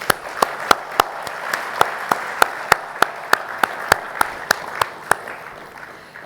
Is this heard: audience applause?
yes